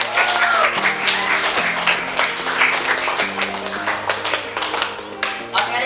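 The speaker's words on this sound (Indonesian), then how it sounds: "Beri aplaus dulu untuk kita semua." A classroom of students applauds with brisk, continuous clapping over a sustained musical chord, and some voices sound briefly under the applause.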